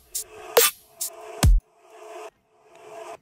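Short synth bass stabs from a tearout dubstep mix, sent through a bone verb reverb effect, a few punchy bursts with one deep low hit, each leaving a gritty, noisy reverb tail that cuts off abruptly.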